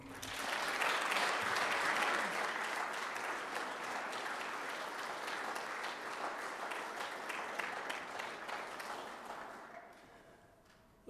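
A crowd at a women's basketball press conference applauds loudly and steadily, the clapping slowly fading over several seconds before dying away at the end.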